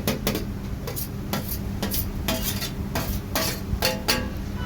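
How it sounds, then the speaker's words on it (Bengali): Potato and grated paneer stirred together in a pan, a spoon scraping and tapping the metal in quick repeated strokes over a low steady hum, close and continuous without speech. "এবার পনির আর আলুটা একসাথে বেশ ভালো করে একটু নাড়াচাড়া করে নেব"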